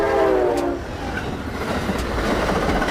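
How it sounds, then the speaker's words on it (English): A double-decker train passes nearby, sounding a loud horn blast at the start. A rumbling roll and clattering wheels follow. "A train with 2 levels of seating, designed to carry more passengers on busy routes."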